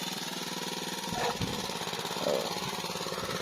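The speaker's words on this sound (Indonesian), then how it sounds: "Nonton Mas Adip traktor" A tractor ploughing a rice field gives off a steady, rumbling mid-pitched engine drone throughout. It sounds moderately close and continuous, without clear speech over it.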